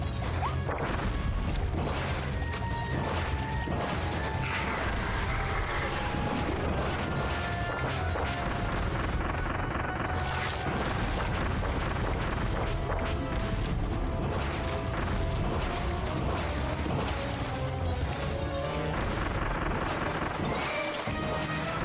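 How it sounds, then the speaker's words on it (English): Homing bombs go off in Kirby and the Forgotten Land, with repeated loud crashing blasts packed over a dense, continuous game soundtrack for the whole stretch. "Yeah, homing bombs are working great."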